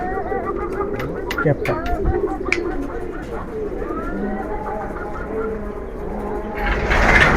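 Tournament pigeons at a pigeon club cooing in low, murmuring overlapping calls throughout, with someone talking over them and a brief burst of noise near the end.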